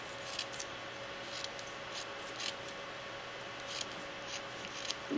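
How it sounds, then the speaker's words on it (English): Scissors cut a thin sliver of white cardstock in a series of crisp, close, rhythmic snips, each a short bright click over a quiet steady background. "you're going to take a piece of white cardstock and just cut a little sliver here"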